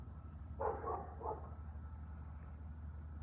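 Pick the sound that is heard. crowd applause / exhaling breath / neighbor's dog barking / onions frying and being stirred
neighbor's dog barking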